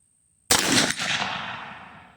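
A single sharp gunshot from a 22 TCM AR rifle with a 12-inch barrel, direct impingement, fired outdoors at a 100-yard target: a loud close crack followed by a fading roll of echo.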